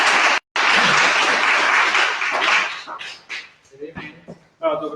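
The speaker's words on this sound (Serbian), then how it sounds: "Ja vas sada pozivam da jednim aplauzom pozivamo našeg predavača." An audience applauds to welcome a lecturer at an evening talk: a dense, loud burst of clapping with a brief gap near the start, thinning into scattered claps and voices before a speaker begins talking.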